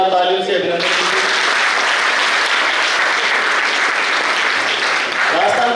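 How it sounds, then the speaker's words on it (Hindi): Loud, sustained applause from an audience welcoming a Rajasthan Police circle inspector at a college awareness event, starting after a brief moment of speech and continuing steadily as dense clapping. "जोरदार तालियों से अभिनंदन कीजिए।"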